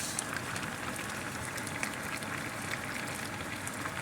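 Escabeche fish with pepper and onion simmering in a pan, a steady soft bubbling and crackling hiss that runs evenly throughout, close and moderately quiet with no voices.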